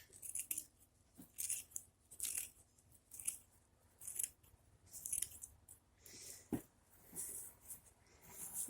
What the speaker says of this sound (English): I'm going to cut this all up.